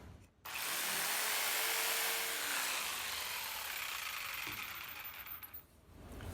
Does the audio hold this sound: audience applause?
no